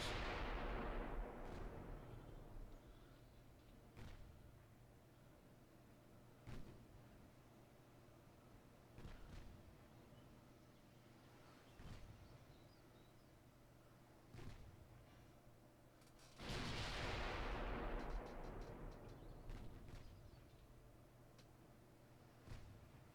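Naval gunfire in Ultimate Admiral Dreadnoughts, with 6-inch and 15.5-inch ship guns trading shots: two big booming salvos open and close the stretch, while sharper, quieter gun reports crack at steady intervals between them over a faint background rumble.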